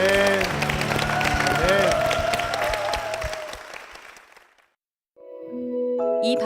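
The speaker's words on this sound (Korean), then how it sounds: "주님께 영광의 박수 올려드리겠습니다." A church congregation applauds in a dense burst of clapping that fades out after about four seconds, with voices mixed in. A short silence follows before music begins.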